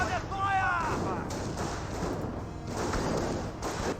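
Rifle gunfire in the World War II strategy game Company of Heroes, a dense crackle of shots and thuds from infantry fighting at close range, continuous throughout, with someone speaking over the start.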